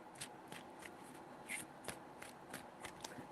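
Tarot cards are shuffled three times by hand, quiet crisp riffling bursts with short pauses between them, close and alone without talk.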